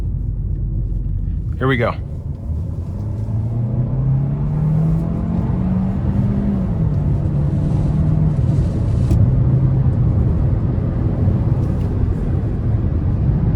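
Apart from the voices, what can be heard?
2025 Hyundai Kona 1.6 liter turbo accelerating onto interstate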